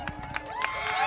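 A crowd at a Bharat Adivasi Party launch event breaks into brief applause and cheering to welcome party leaders, rising in loudness over about a second.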